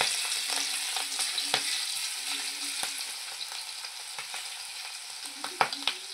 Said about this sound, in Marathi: आता आहे ना गॅसवर तेल तापत ठेवलेलं आहे, त्यात आपण ह्या कोलंबी तळून घेणार आहोत।